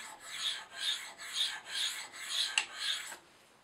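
A knife blade is being sharpened on the flats of Spyderco Sharpmaker ceramic rods, giving six steady rasping strokes in an even rhythm, close and clear, with no talking.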